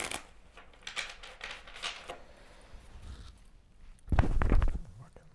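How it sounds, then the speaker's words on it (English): Tarot cards are shuffled by hand in a single shuffle: soft, rapid riffling taps spread across a few seconds, ending in a louder, brief flurry of card noise, with a quiet indoor background. "I'm going to do one shuffle here."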